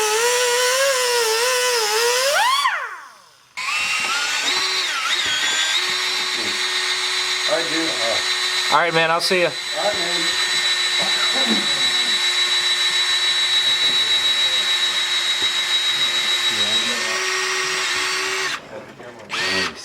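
A loud, steady power drill runs almost continuously, with a brief pause early on, while someone speaks briefly over it, during a supercharger install on a 2010-2015 Chevrolet Camaro SS.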